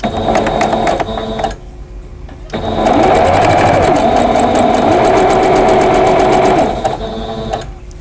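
A sewing machine stitches 2.5 inch quilt squares together in loud, close runs of rapid whirring with a brief pause between bursts, the motor pitch rising and falling as it speeds up.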